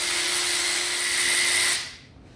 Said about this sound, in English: So I'm going to unbolt this oil filter housing too.